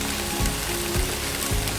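An egg frying in a pan for Korean bibimbap, a steady close sizzle with faint crackles and a few soft low knocks, no voices.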